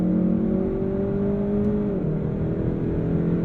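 A 2022 Kia K5 GT's engine revs hard near the top of its range, a loud sustained droning whir that climbs steadily, then dips briefly as if shifting before pulling again, heard from inside the car.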